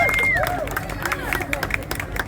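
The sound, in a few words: audience clapping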